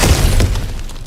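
A loud, close crash of something shattering as an obstacle is smashed through in the God of War Ragnarok video game, a single heavy impact breaking apart and quickly fading.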